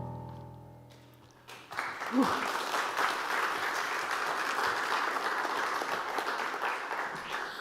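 Audience applause at a Sunday livestream service in San Francisco, swelling after a quiet moment into steady, sustained clapping from a full room that holds for several seconds.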